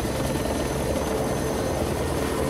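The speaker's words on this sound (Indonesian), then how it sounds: "sebuah helikopter terbang rendah membawa 3 drum BBM untuk keperluan perusahaan Canadian Gold" A helicopter flying low and carrying three fuel drums, its steady rotor thrum and engine drone loud and continuous with no voices.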